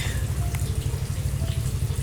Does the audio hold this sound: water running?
yes